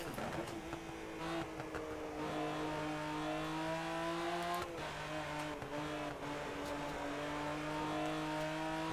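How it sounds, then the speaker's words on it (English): A BMW race car engine in the racing game Rennsport holds a loud, steady, tonal drone close up, its pitch shifting slightly, dropping briefly as though on a gear change, then climbing again. "BMW sounds nice as well"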